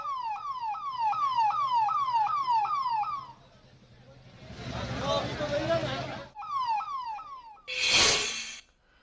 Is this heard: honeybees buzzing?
no